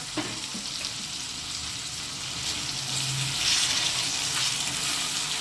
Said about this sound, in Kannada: ನೋಡಿ ಈರುಳ್ಳಿ ಫ್ರೈ ಆಗ್ತಾ ಇದೆ ಶುಂಠಿ ಬೆಳ್ಳುಳ್ಳಿ ಹಾಕ್ತಾ ಇದ್ದೀನಿ